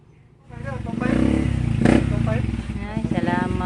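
A freshly repaired motorcycle engine fires up and runs at a close, steady idle with some uneven throb, while people talk over it.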